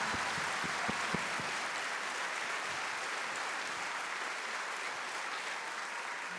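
Sustained applause from the audience at the Leopolda political gathering, honouring Pier Carlo Padoan. It is dense and steady, with a few sharper claps near the start.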